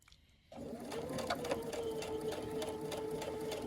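A sewing machine stitches with a twin needle, starting abruptly after a brief quiet moment and then running in a steady, close mechanical whir with rapid rhythmic ticking.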